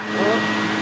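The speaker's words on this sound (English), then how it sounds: "I was just in the middle of vacuuming." Shark Navigator Lift-Away Professional upright vacuum cleaner (NV356E) running indoors, a steady loud whooshing motor drone with a faint high whine, continuous and close throughout.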